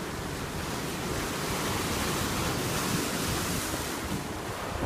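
Steady, broadband roar of Pacific Ocean surf with wind at Los Angeles, continuous and fairly distant, no voices.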